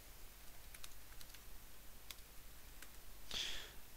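Typing on a computer keyboard, heard as scattered faint key clicks spread across a quiet room background, with a short brighter tick near the end.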